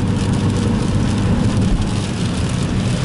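Heavy rain mixed with snow drumming on a car, a dense continuous patter of big drops on the body, steady and close with no pauses or voices.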